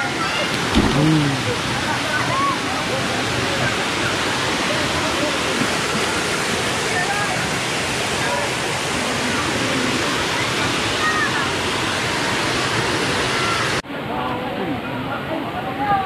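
Gabur-Gabur Falls roars in a steady, loud wash of rushing water that never lets up, with faint voices now and then under the torrent.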